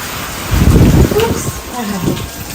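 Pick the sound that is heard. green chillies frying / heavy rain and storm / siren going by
heavy rain and storm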